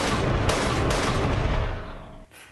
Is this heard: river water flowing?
no